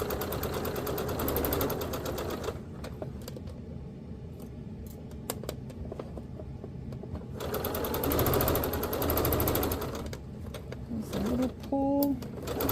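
Stitching knit fabric for a lounge wear top, a sewing machine runs in two rapid whirring bursts separated by a quieter pause, with someone speaking in between.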